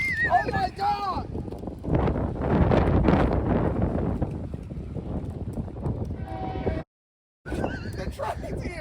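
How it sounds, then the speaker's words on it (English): A train arrives with a rumbling, rattling roll that comes in close, heavy wind buffeting the microphone and people talking over it, then a brief cut to silence before the noise returns. "The train's here."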